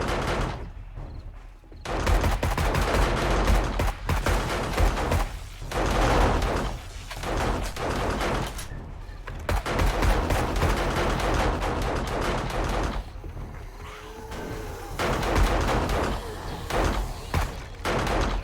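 Gunfire rattles almost nonstop in the zombie survival video game 7 Days to Die, with dense repeated shots and thumps filling the clip and a brief lull near the start.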